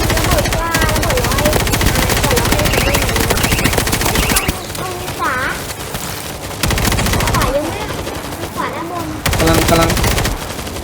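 Rapid, loud automatic gunfire in the World War Z game, sustained bursts fired against a zombie horde in horde mode, with brief pauses between volleys.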